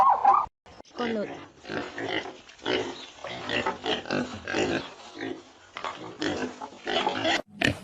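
A farm pig oinks and grunts close by in a rapid series of short bursts separated by brief pauses, loud and alone with no talk.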